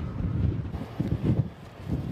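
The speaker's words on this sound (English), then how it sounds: "Punishing hurricane-force wind gusts, snow, and frigid cold created dangerous conditions" Hurricane-force wind gusts of a nor'easter blizzard on Maryland's eastern shore, a steady low roar buffeting the microphone with swelling gusts around the middle and near the end, no voices.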